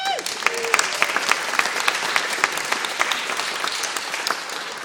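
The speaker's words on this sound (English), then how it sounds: "Can we give John a round of applause?" A dinner audience at a Lincoln Club event gives John Pashong a round of applause, a loud, steady wash of many hands clapping close by for about five seconds, with a few brief voices mixed in.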